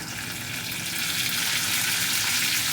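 Curry leaves and garlic sizzling in hot oil for a potato and brinjal bhaji, a loud bright crackle that builds and stays steady, close up, with no talking.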